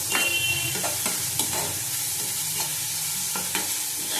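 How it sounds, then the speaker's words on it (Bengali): Onions frying in hot oil with panch phoron while a spoon stirs them in a pan, a steady close sizzle with repeated scraping strokes throughout. "পেঁয়াজটাকে লাল লাল করে ভেজে নিতে হবে।"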